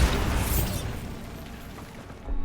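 The Bombarda blasting spell in Hogwarts Legacy goes off in a single loud, close explosion, a broad burst that decays over about two seconds before a second low thump near the end.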